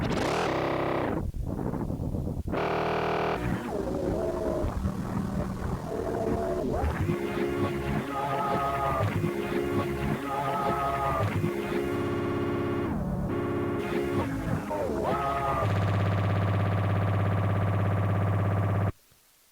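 Warbling, effected music gets chopped into repeating fragments by a looper, stuttering cuts and sudden drops between looping phrases, ending abruptly.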